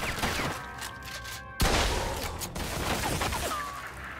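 Enemy gunfire in Mafia 2 Definitive Edition, with shooters firing from above: sharp bursts of shots cracking over a noisy battle, and one heavy, loud impact partway through.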